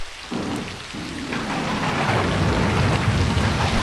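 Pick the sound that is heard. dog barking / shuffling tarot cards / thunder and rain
thunder and rain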